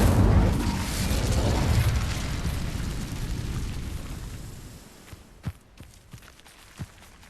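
The Incendio fire spell cast in the Hogwarts Legacy video game bursts out as a loud, roaring whoosh that fades over several seconds, followed by a few soft, scattered footstep-like thuds.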